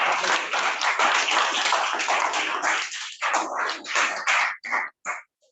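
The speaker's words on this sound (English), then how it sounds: "Let's hear one more round for our Toastmasters." Audience applause at a Toastmasters club meeting: a dense room of clapping hands, loud and steady for about three seconds, then thinning into a few scattered claps that stop one by one.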